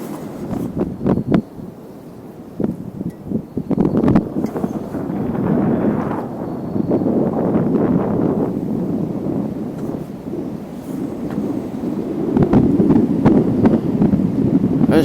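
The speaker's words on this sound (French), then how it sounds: "Je sais pas si tu entends le bruit du vent, ça vient de là-bas." Wind blows outdoors in gusty waves, a low roaring buffet against the microphone that swells and eases, with scattered handling knocks and no talk.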